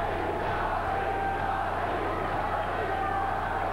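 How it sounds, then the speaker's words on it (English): A boxing arena crowd roars steadily throughout a 1983 bout, a dense, loud wall of massed voices chanting a boxer's name with no breaks. "The crowd screaming Donny."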